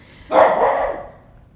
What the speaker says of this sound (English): My dog was getting a little carried away.